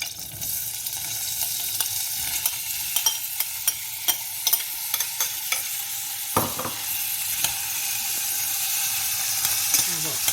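Corn cooking in oil for a tomato-sauce dish, stirred in the pan: a loud steady sizzle with repeated spoon knocks and scrapes at an even pace, alone and close.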